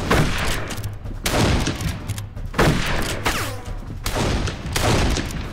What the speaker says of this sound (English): Let me just shoot the Germans